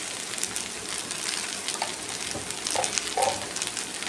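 Okra sautéing in a pan with salt and turmeric, a steady close sizzle and crackle with faint scraping of stirring.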